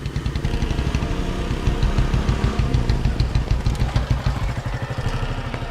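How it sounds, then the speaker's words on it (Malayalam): A motorbike engine runs close by with a steady, throbbing idle and a rapid clattering beat that holds evenly throughout, with no voices over it. "ബൈക്കിന്റെ സൗണ്ട് കേൾക്കുന്നുണ്ട്."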